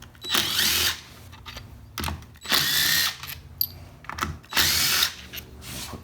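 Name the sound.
power tool removing 10mm bolts from 4L60E transmission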